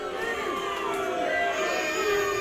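Arena crowd in the wrestling video game Wrestling Evolution roaring and cheering in a continuous swell, loud and steady, with shouts and whoops rising within the din.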